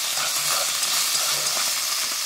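Mushrooms stir-frying in a hot pan for hot pot broth, a steady close sizzle with faint stirring scrapes, no talk.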